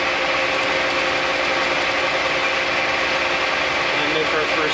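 A lathe turns at about 250 RPM, cutting an MG connecting rod with a steady metallic hum and a faint ringing scrape, holding an even level throughout the cut.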